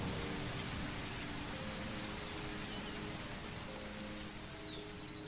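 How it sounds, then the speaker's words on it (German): Steady rain hiss in the animal survival video game Primal Earth, a constant broadband wash with faint tonal ambient hum beneath, even and moderately quiet throughout with no talk. "Aber jetzt haben wir wenigstens auch mal den Regen gesehen."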